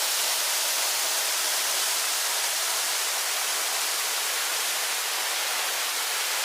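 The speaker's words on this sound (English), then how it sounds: "So there we are, the waterfall." Chindia Waterfall in Tenerife, a large drop, roars as a steady, dense rush of falling water, loud and unbroken throughout with no voices.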